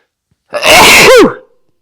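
One loud, close sneeze bursts out sharply and ends with a brief throaty whoop, set against silence.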